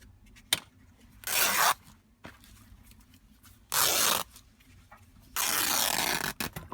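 Fabric-wrapped batting being trimmed off the sides of a journal cover, three separate bursts of rough cutting and tearing about a second long each, close and fairly loud, with quiet handling in between.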